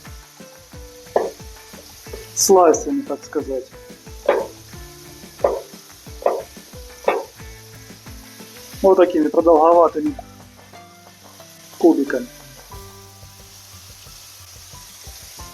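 Mushrooms fry in oil in a pan with a soft, steady sizzle running beneath a person talking in bursts close to the mic.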